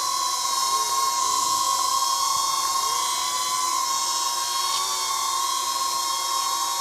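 DJI Neo 2 drone propellers hovering while trying to land, a steady high-pitched whine and whir close by, with no break and no talk over it.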